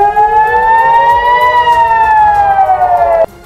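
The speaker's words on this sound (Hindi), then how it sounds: "और सायरन बजने लगे।" Air raid siren in northern Israel wails loudly and alone as one sustained tone that slowly rises, holds, then sags before cutting off abruptly.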